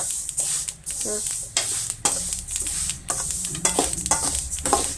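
Sesame seeds roasting in a pan for sesame laddoos, a loud hissing crackle broken by repeated scraping stirs in an uneven rhythm, close up with no talking.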